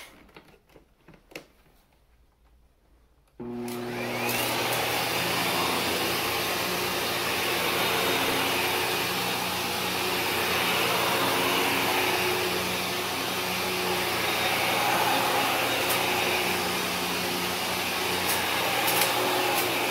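A Kenmore vacuum cleaner clicks on after a few quiet seconds of faint handling noises and then runs with a loud, steady, close roaring whine that continues without a break to the end.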